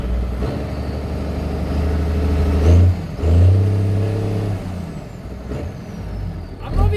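A Zetor ZTS 16145 tractor diesel engine runs after repair, a loud, close rumbling idle that revs up twice in short bursts before settling back, with a faint hiss near the end.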